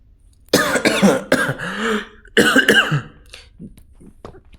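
A few harsh, raspy coughs up close, in two bursts, with a throat-clearing quality and quieter noises afterward, heard while playing the Granny horror game.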